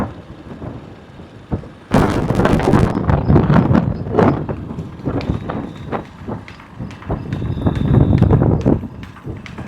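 A mare's hooves clip-clop in a rapid, uneven rhythm outdoors, fairly close and loud, with sharp hoof strikes over a broad rumbling background that swells and fades; no speech is heard.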